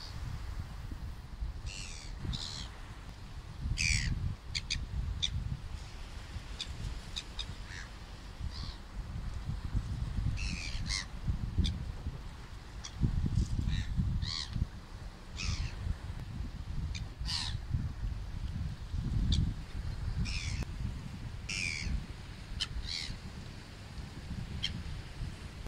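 Seagulls call repeatedly outdoors, harsh squawks and cries scattered at irregular intervals over a steady low rumble of wind, some calls near and others farther off.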